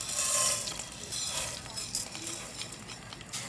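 Vermicelli is tipped into hot oil in a cooking pot and sizzles steadily and closely, with a crackly texture and soft stirring scrapes throughout the few seconds.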